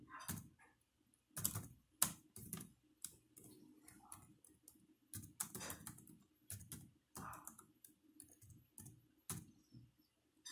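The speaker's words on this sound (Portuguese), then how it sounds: "você vai digitar o seu CPF e também o seu nome" Someone types a CPF number and name into a computer keyboard while filling in an income tax return, with irregular bursts of key clicks and short pauses, close and fairly quiet, with no talking.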